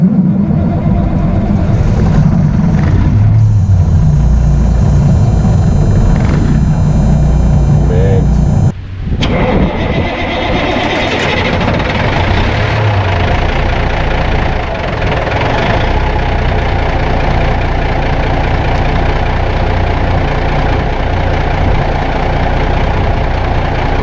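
A 1985 Peterbilt 359 truck's heavy diesel engine cranks and then settles into a loud, rough low rumbling idle that carries on steadily to the end.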